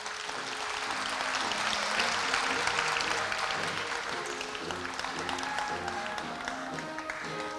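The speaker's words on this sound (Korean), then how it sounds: "박수 부탁드립니다." Steady applause from a large audience at Korea University's 113th anniversary ceremony, a dense, even patter of many clapping hands lasting throughout, with faint tonal music underneath.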